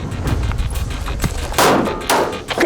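Gunfire from shooting drills in a tough physical competition, heard as a few loud, sharp shots in close succession near the end, with low rumbling thumps earlier.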